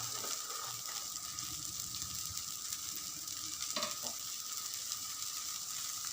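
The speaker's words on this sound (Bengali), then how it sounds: "গলা জলটা কেমন টকবক করে ফুটছে" Sour water seasoned with salt, turmeric and sugar boiling in a pot for a Bengali fish tok, a steady close bubbling and sizzling wash with occasional clinks, no talk.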